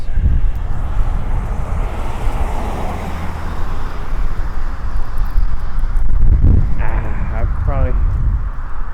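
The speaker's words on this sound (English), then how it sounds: "I'm thinking this audio is probably going to be pretty bad because it's pretty windy" Heavy wind buffets the microphone with a constant low rumble throughout, and a voice is faintly heard near the end.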